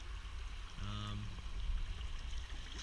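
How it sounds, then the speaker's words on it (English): Steady broadband rush of a flowing winter tailwater river at a fly fishing spot on the Farmington River, a continuous close wash with a brief tonal sound rising above it partway through. "Just such a nice river, to be honest."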